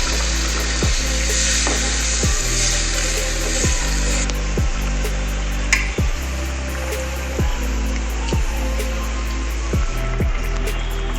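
Water poured into a pan of cooking soybean curry with onions sets off a steady, loud sizzle and bubbling, while regular knocking thumps repeat throughout.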